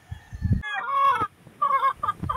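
A pure Possum Sweater hen clucks and gives drawn-out, crow-like calls up close in a short sequence, loud and clear with nothing else heard.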